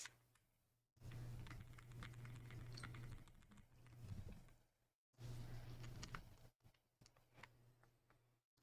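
Typing on an IQUNIX Super 1+1 TKL mechanical keyboard: bursts of fast, close clicky keystrokes in two runs, broken by short pauses, over a low steady background hum.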